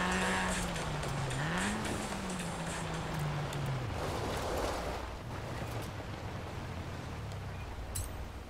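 Toyota AE86 exhaust in the Forza racing game, an engine note that rises and wavers before dropping away and fading under a wash of noise that could be tyre or road sound.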